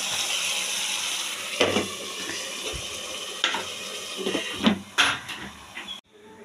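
Spice masala for rui kalia fish curry sizzling and frying in a pan, a steady hiss with occasional stirring scrapes and clinks close by, no talking.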